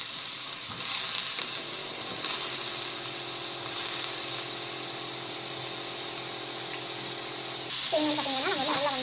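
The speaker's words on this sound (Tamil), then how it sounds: "ஸோ டொமேட்டோ பியூரி வந்து போட்டுக்கலாம். நல்லா வந்து வதக்கிக்கோங்க." Tomato puree masala sautés in a pan with a loud, continuous sizzle and hiss, close up, with brief stirring scrapes; a voice is heard toward the end.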